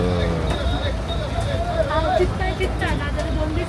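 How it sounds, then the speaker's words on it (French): Inside a moving bus in Goa, India, an engine rumbles under constant road noise while passengers chatter in a busy background murmur. "Bon bah voilà, je suis installé dans le bus"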